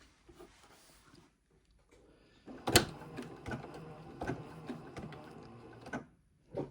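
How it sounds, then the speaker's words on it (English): A sewing machine stitches the front of a fabric flap for a needleworker's companion. After a quiet start, a sharp clunk sets it going, then comes an uneven run of close mechanical whirring and clicking in short bursts. "I am going to machine sew the front of the flap and hand sew the reverse."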